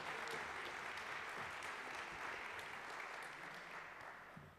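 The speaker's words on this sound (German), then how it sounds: "Einen großen Applaus, welcome." Sustained applause from a crowd, a dense even clatter of clapping that fades slightly toward the end.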